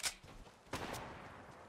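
A Fortnite Battle Royale gunshot: one sharp crack followed by a second close shot, then a lingering rumble, fairly quiet with no talking.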